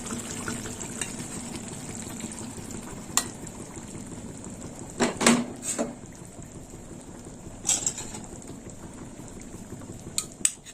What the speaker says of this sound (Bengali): এবার দিয়ে দেবো নারকলের দুধ এই দেখুন বন্ধুরা দুধটা একটু ছেঁকে দিতে হবে